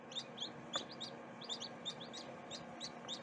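Chick peeping inside a hen's egg as it hatches in a homemade incubator, with repeated short high chirps in an irregular rhythm, close by and moderately loud, over a steady low incubator hum.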